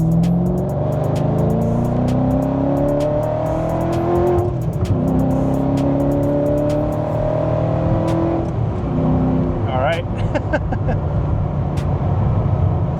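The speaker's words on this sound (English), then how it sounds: "We'll let it rip. Let's hear it." A supercharged Ford GT revs hard at full throttle after a downshift to second gear, a loud, close, continuous engine roar with rising pitch sweeps, a brief dip near the middle as it shifts, then a sharp high whine as it climbs again.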